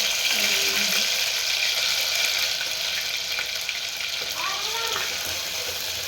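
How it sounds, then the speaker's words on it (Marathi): Ground black masala for mutton rassa frying in oil, a continuous close sizzling hiss with faint scraping of a spoon, steady and fairly loud. "काळा मसाला तेल सुटेपर्यंत परतून घ्यायचा आहे"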